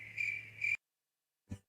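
A cricket chirp sound effect plays as a clear, steady high trill for under a second, then silence, then a short low thump.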